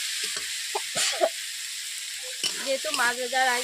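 Fish heads with onion and masala are sautéed in a pan, with bursts of loud close sizzling and scraping stirs broken by quieter gaps and a faint hum.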